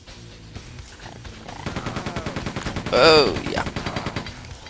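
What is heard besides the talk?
machine gun fire in the video game Quake II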